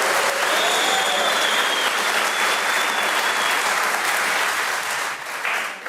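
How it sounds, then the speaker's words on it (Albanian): Audience applause at a live television talk show in a studio, loud and sustained, a dense wash of clapping that fills the whole stretch and dips only slightly near the end, with no talk over it. "dëshiroj që ti falenderoj me një duartrokitje të fortë"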